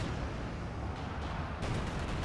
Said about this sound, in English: airstrike coming in once again